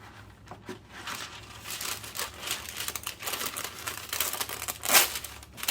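Sheet of parchment paper crumpled and handled in a home kitchen while baking chocolate chip cookies, a steady close crinkling and rustling with a sharper crackle near the end, no talk.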